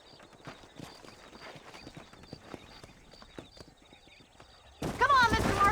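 Horses in the video game Red Dead Redemption clop along in a steady rhythm of hoofbeats, then break into a loud, close whinny near the end.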